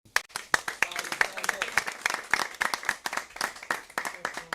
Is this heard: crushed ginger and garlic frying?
no